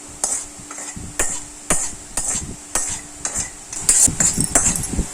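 Rice being stirred and tossed into a tamarind rice mixture in a pan for puliyodarai, giving steady rhythmic scraping and clinking strokes of a spoon against the pan, close and moderately loud with no talking.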